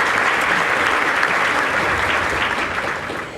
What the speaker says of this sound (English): maybe we should have a hand of applause for the people that prepared our